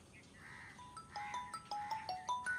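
A phone rings with a quiet, repeating melodic tone sequence of short electronic notes, heard alone without any voices.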